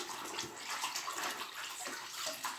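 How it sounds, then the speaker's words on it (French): Water splashed onto a face and neck during a skincare routine, a steady close wash of splashing and trickling with no voices. "Bien nettoyer mon visage. Bien nettoyer le cou."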